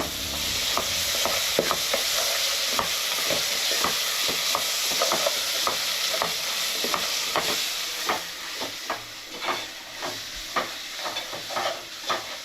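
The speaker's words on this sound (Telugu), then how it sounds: "దీన్ని 1 నిమిషం పాటు పచ్చివాసన పోయే వరకు వేయించుకోవాలి. కలుపుకుంటూ ఉండాలండి" Ginger garlic paste fries in a pan for a fish curry, a constant sizzling hiss broken by regular scraping strokes of a spoon as it is stirred, close and alone.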